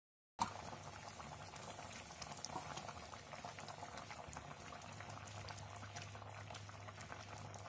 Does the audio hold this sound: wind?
no